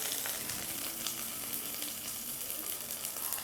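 Shallots, garlic and small tomatoes sizzle steadily in a hot pan of oil for Tamil-style tamarind curry, a continuous close crackle and hiss with no one talking.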